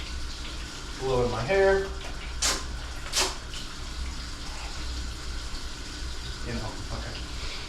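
Warm tap water runs steadily from a bathroom faucet, a constant rushing wash that fills the background while a person talks briefly over it near the start.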